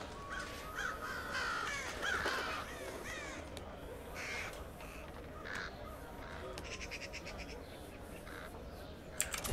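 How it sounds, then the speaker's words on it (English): Crows caw repeatedly in a video game about a thief, a cluster of loud harsh calls over a steady ambient background with no talk. "All that damn crowing."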